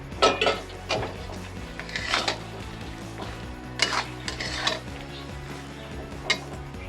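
Jujubes tipped into melted jaggery in a pan and stirred for a sour plum pickle, giving scattered clinks and scrapes of a utensil against the pan with a low hum beneath, moderately close.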